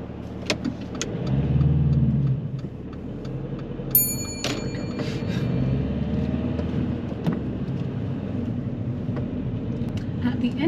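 Car pulling away during a driving test, a low engine rumble swelling as it moves off and settling into a steady drone of driving, with faint clicks inside the cabin.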